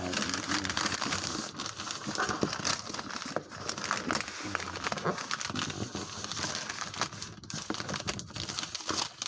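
Paper being folded up by hand into a small packet for a simple love charm, with dense crinkling and crumpling close by, continuous for several seconds, and faint voice-like sound underneath.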